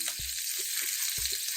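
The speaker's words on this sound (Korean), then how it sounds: "팬에 올려 지져주세요." Egg-battered pollock fillets fry in plenty of oil in a pan over medium heat, giving a steady close sizzle with a couple of soft clinks from placing pieces.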